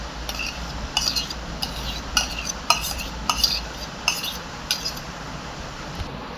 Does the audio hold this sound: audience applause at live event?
no